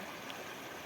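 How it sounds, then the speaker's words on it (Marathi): Floodwater rushing through a village stream swollen overnight by the first monsoon rain, a steady, dense broadband roar of flowing water that stays constant and fairly close throughout, with no voices. "इथून पण पाणी वाहत आहे"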